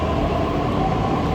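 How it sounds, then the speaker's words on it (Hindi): A metro train at Rohini metro station produces a loud, steady rumbling roar that fills the whole moment, with no voices over it. "हम आ चुके हैं रोहिणी मेट्रो स्टेशन"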